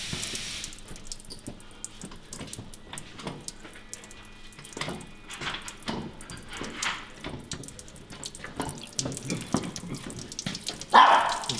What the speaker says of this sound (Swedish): Ja, nu rinner det mycket vatten.